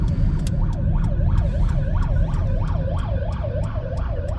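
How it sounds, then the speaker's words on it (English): An ambulance siren wails loudly and close by in a rapid, regular rising-and-falling cycle, continuous over steady traffic rumble. "there's an ambulance"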